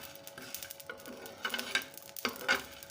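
Garam masala spices dry-roasting in a pan as they are stirred, with soft scraping and light crackling in irregular quiet bursts.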